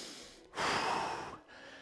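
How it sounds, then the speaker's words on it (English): One heavy, forceful breath after an intense workout, a loud breathy exhale lasting about a second, then a softer intake, close to the microphone with no talking. "You'll be breathing creepily like me."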